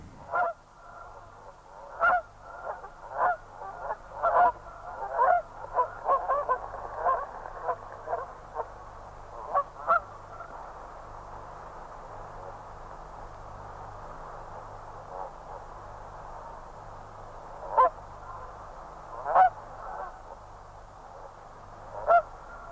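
A flock of birds calls while feeding, with repeated honking, goose-like calls rising in bursts over a steady low background hum, some close and loud, others softer.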